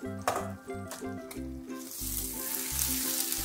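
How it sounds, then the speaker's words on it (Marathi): Chili powder, spices and salt fry in oil and give a rising hiss. The sizzle grows louder in the second half, under a rhythmic musical backing. "असे तिखट मीठ सगळं तेलामध्ये शिजू देते।"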